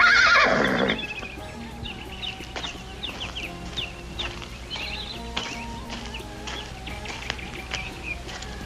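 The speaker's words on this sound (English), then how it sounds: "Looks like a fine horse." A horse whinnies loudly at the start, then quieter chirps and clucks of birds follow with light tapping in the background.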